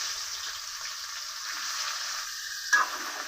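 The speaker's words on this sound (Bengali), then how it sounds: "বাকি এঁচড়গুলো ভাজার জন্য আরেকটু করে তেল দিতে হবে।" Young jackfruit pieces sizzle steadily in hot oil in a pan, a continuous close frying hiss with a brief louder crackle near the end and no talking.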